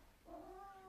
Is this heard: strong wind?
no